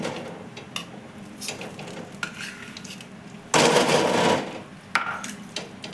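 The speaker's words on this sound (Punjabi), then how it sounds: "ਕੜਾਹੀ ਵਿੱਚ ਆਪਾਂ ਦੇਸੀ ਘਿਓ ਐਡ ਕਰਾਂਗੇ ਦੇਖੋ ਫ੍ਰਿਜ ਵਿੱਚ ਪਿਆ ਸੀ ਥੋੜਾ ਜੰਮਿਆ ਹੋਇਆ ਏ" A spoon scrapes and clanks against a metal kadhai as frozen desi ghee is added for besan laddoos, giving a few sharp metallic taps and one longer scraping stretch, close and clear with no talk.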